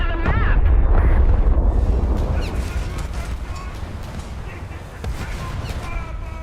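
Booming naval gunfire from battleship and cruiser guns in World of Warships, heavy blasts loud at first then rolling into sustained rumbling impacts, with a voice talking over part of it.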